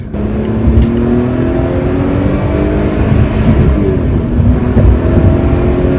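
A Lotus Evora with a Toyota-sourced V6 accelerates hard, its loud engine note rising steadily in pitch through the gears from inside the car, with no one speaking.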